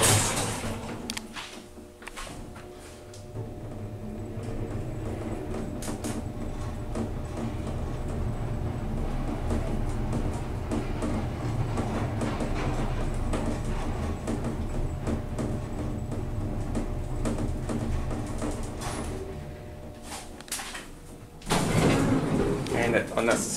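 An Otis Autotronic pop-out elevator at the Renaissance Centre in Erie, PA hums steadily while riding, with door rumbles and clunks near the start and end, and a person talks over it.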